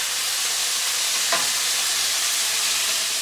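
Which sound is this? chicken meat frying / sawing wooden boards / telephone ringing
chicken meat frying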